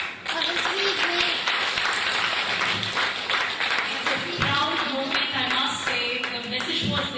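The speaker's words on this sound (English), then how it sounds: "Ladies and gentlemen, a huge round of applause." Sustained audience applause at an awards celebration, a dense continuous wash of clapping with crowd murmur and voices mixed underneath.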